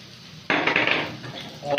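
Onions and green chilies hit a frying pan of hot ghee with a sudden loud sizzle that continues in a steady hiss, with a faint clink of utensils near the end.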